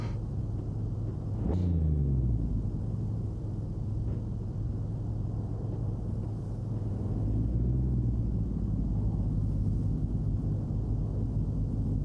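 BMW and Mustang race cars on a track during qualifying, a steady distant engine rumble with a car passing by, droning continuously without voices.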